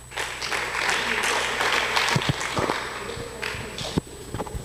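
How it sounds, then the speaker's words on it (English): Applause from the audience at a school debate between two academies, steady and moderately loud with some thumps and footstep-like knocks mixed in, talking faintly underneath. "A round of applause for her"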